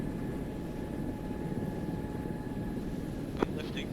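A military aircraft taxiing in a combat flight video game gives off a steady, dense engine drone with a faint whining tone, continuous and fairly loud throughout, with a short click near the end.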